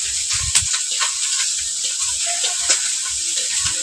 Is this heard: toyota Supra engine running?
no